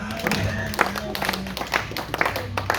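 A church congregation applauding and cheering to acclaim the Lord, a dense patter of hand claps mixed with raised voices and crowd noise, close and lively throughout.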